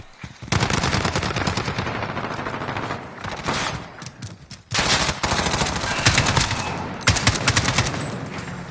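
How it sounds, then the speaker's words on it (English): AK rifle fire in a first-person shooter video game, loud sustained automatic bursts with brief gaps between them. "Never My Fault has found one, and is using an AK."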